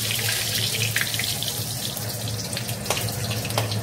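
Dried red chillies, green chillies and panch phoron sizzle in hot oil in a home kitchen, giving a steady, close hiss with scattered crackles throughout and no voices.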